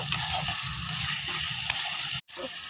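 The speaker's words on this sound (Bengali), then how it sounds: "খাসির চর্বি আর মশলাটা ভালোভাবে কষিয়ে নেব।" Goat fat and spices sizzle loudly and continuously in a hot pan for a ghugni with peas and chopped tomato, with a brief stir-like knock and a short cutoff near the end.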